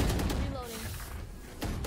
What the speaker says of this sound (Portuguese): Passei correndo dando tiro.